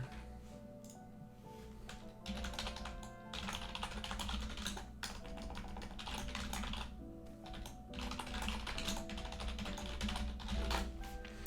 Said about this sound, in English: Sorry about typing, I was just reporting the bug.